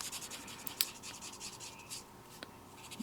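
A bullet-tip marker colors a small stamped image in tight circular strokes, giving a soft, continuous scratchy rubbing on paper with a few brief taps, quiet and close, with no talking.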